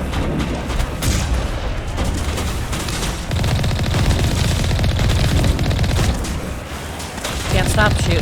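Rapid, continuous gunfire from a weapon in Mass Effect Legendary Edition, loud and dense throughout with booming low end and scattered impact bursts, a voice talking faintly in places.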